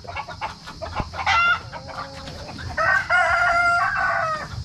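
Native chickens cluck steadily while a rooster crows loudly twice, close by, with farmyard bustle in the background.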